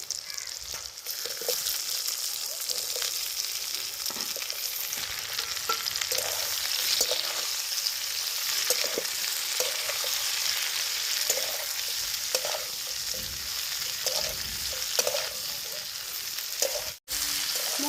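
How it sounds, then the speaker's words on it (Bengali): Fried vegetables are stirred with spice paste in a hot pan, producing a loud, continuous sizzle broken by repeated scraping strokes of a spatula, close up and without speech. "মশলাটা ভালো করে সবজির সাথে কষিয়ে নিয়েছি"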